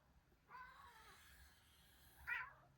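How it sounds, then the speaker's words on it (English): A house cat meows twice, a soft drawn-out call followed about two seconds later by a sharper, louder one, fairly close in a quiet room. "What's the cat making noise about?"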